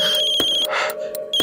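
A phone rings indoors with a repeating electronic tone in short pulses, close and clear with no talking.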